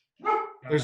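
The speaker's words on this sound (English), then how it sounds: "Sorry about my dog barking." A dog nearby barks twice in quick succession, loud and close, with a voice speaking over the barks.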